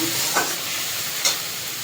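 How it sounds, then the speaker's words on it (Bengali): Garlic paste frying in a pan with onions gives a steady, close sizzle, with two brief stirring scrapes breaking through and no voices. "এবার দিয়ে দেবো এখানে রসুন বাটা। রসুনটা একটু ভেজে নেব।"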